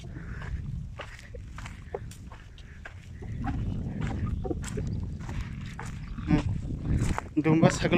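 Fat-tailed dumba sheep and goats bleat on a livestock farm in Saudi Arabia, the calls growing louder near the end, mixed with shuffling footsteps and someone talking throughout.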